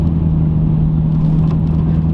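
A Lexus SC430 car engine runs with a low, rough, steady drone like a tractor, close and fairly loud, holding an even hum without revving.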